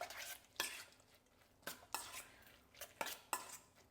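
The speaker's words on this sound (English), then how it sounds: "And then I'm gonna add in some diced tomato. I'm gonna mix that up." A spoon stirs diced tomato and onion with lime juice in a bowl for pico de gallo, giving several separate scraping, clinking strokes at an uneven pace, fairly close and quiet.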